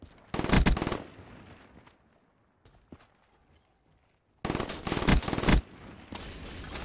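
Automatic gunfire in a video game rattles out in two loud, close bursts, the first short and the second longer, separated by a quiet stretch with a few faint clicks and footsteps.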